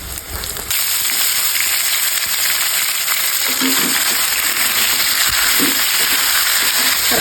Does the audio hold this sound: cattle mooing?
no